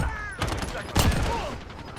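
Akimbo Snakeshot pistols fire in a first-person shooter video game: a few quick sharp cracks, the loudest near the middle, under someone talking over the action.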